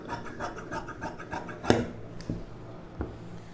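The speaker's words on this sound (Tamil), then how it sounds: "இதை அப்படியே ஸ்ட்ரைட்டாக கட் பண்ணிக்கலாம்." Scissors cut straight through silk saree blouse fabric with a series of close, soft rhythmic snips and rasps, ending with a few sharper isolated clips.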